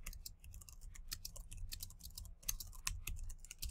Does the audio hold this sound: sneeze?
no